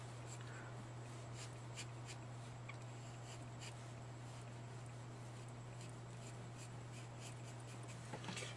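Markers drawing a tree on paper, faint scratchy strokes repeating in short bursts over a constant low electrical hum.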